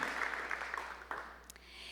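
A church congregation applauds at an evening service, a steady, fairly faint wash of clapping that thins out toward the end.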